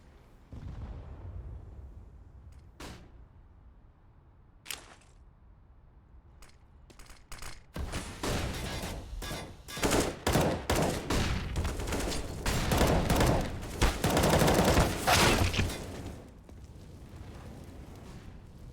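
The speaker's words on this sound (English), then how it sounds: "Grenade's going to do a little bit of damage." Counter-Strike gunfire and a grenade explosion on the Overpass map during a competitive esports match: a few isolated shots, then dense, loud rapid fire and blasts building to a sustained barrage before easing off.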